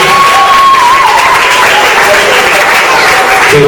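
A church congregation applauds and cheers for Jesus, dense continuous clapping and shouting that stays loud and close throughout, with a few voices rising above the crowd.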